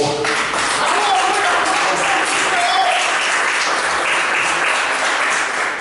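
A church congregation applauding during a worship service, a dense, loud and continuous wash of clapping that holds steady throughout, with faint voices mixed in underneath.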